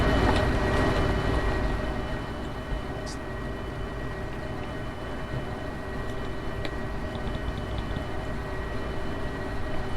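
Heavy freight train engine running in the railway simulator game Derail Valley, a steady loud low rumble with engine drone throughout and faint higher mechanical tones on top.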